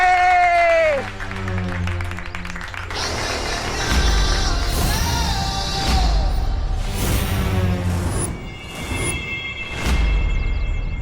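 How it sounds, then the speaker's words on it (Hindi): Hand clapping amid a noisy, crowded scene in a children's fantasy TV drama, with a burst of applause-like patter over overlapping voices and shouting. "हाथ से बजाने वाली ताली"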